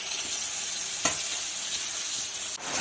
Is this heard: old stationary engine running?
no